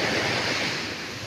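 Strong sea waves surge onto a beach at Balabac, Palawan, a steady broad wash of surf close by with some wind buffeting, no voices present.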